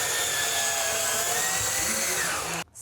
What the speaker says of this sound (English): We're going to use an electric drill with a special attachment that is actually a mixing